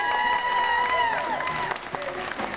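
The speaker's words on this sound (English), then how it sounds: "Let's give her a round of applause!" A convention crowd at a cosplay event applauds a costume showcase. The clapping is loud and continuous, with a voice and faint cheering mixed in.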